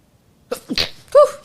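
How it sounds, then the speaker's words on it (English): A single sharp sneeze, close and loud, with a quick intake of breath just before it, then a short trailing exhale. "I sneeze and they go everywhere."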